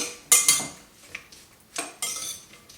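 Utensils clink and scrape against a dish while cucumber salad is mixed with vinegar and sugar: two sharp clinks near the start, then softer scraping and a few more knocks, close and alone without talk.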